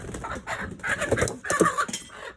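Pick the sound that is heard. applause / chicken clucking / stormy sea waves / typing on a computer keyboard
chicken clucking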